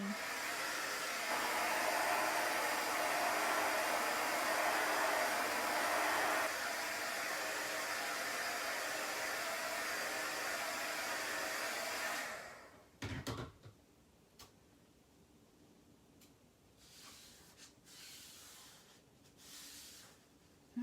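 A hair dryer blows steadily and loudly on a Chalk Couture transfer for about twelve seconds, then switches off, leaving quiet room noise with a few faint knocks and handling sounds.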